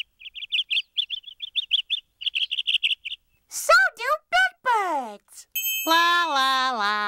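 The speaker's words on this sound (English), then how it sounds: "Little birds make music." Little birds chirp in rapid repeated tweets, bright and close, before a voice sings and speaks.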